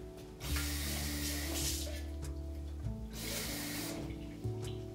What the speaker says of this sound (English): I'm gonna fill this can up with just a little bit of water.